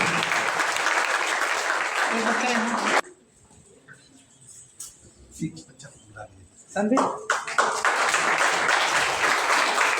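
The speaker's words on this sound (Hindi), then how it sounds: "एक बार जोरदार ताली विष्णु प्रिया के लिए।" Two loud bursts of audience clapping at a university Hindi department prize-giving ceremony in Bhagalpur, separated by a few quieter seconds of faint room noise and shuffling.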